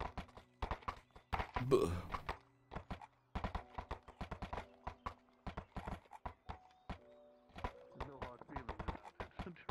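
Horses' hooves clip-clop in a steady walking rhythm while climbing uphill, close and distinct, with a brief whinny early on and a few spoken words between steps.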